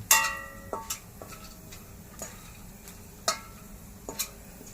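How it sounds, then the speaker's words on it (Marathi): Pumpkin seeds roasting in a dry pan give off sharp, scattered pops, about half a dozen crisp cracks spaced irregularly over a faint background hiss. "बिया पण मस्त उठतात आवाज येत हो."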